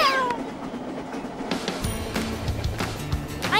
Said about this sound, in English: Callie, you naughty kitten